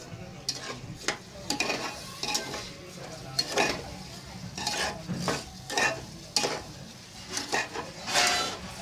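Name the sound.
stirring rice into a cooking pan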